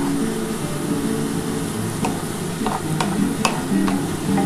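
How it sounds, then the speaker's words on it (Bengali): Potatoes and eggs frying in hot oil for egg chicken biryani, a steady close sizzle with occasional stirring taps and clicks and no talk. "আর এই তেলের মধ্যে আমি আলু আর ডিমটাকে ভেজে নেব।"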